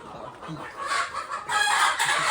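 Native village chickens at a poultry place cluck and squawk close by in short, overlapping bursts, growing louder toward the end.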